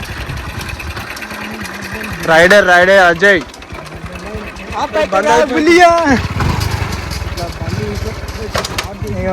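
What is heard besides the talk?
motorcycle engine starting and idling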